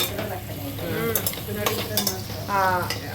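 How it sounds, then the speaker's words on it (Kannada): Sliced onions fry for ghee rice, a steady close sizzle broken by scraping stirs and a few quick metallic clinks of the spoon against the pan. "ಆನಿಯನ್ ಹಾಕಿದ್ದೀನಲ್ಲ, ಅದು ಸ್ವಲ್ಪ ಬ್ರೌನ್ ಆಗಬೇಕು, ಅಂದರೆ ಸ್ವಲ್ಪ ಗೋಲ್ಡನ್ ಬ್ರೌನ್ ಆಗೋವರೆಗೂ ಉರಿಬೇಕು"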